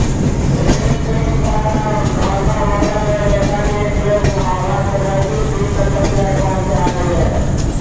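The Howrah Chambal Express rumbles along the tracks with a continuous loud rolling roar and rhythmic clickety-clack of wheels, heard from inside the coach, with faint voices in the background.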